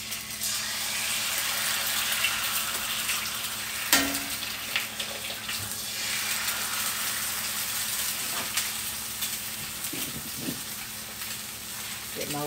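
Eggs and rutabaga fry in tallow on a hot surface, giving a steady crackling sizzle with faint scraping and a few sharp pops, moderately close and fairly quiet.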